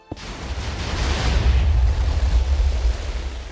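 A TNT cannon explosion in a video game build battle bursts with a sharp crack, then a long rumbling roar that swells and slowly fades.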